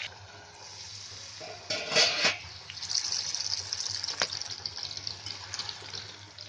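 Corn kernels dropped into hot oil on medium gas: a steady bright sizzle with a louder burst of hissing spatter early on and an occasional sharp pop, with no talking.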